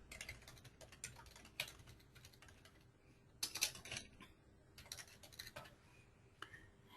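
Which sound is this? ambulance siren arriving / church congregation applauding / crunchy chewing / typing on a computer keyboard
typing on a computer keyboard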